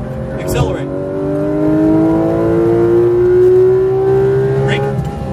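A Porsche GT3 RS accelerating hard on a racetrack, its engine note climbing steadily and loud, with a rising pitch and tyre noise, while a voice gives instructions over it.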